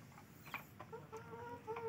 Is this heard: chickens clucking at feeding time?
yes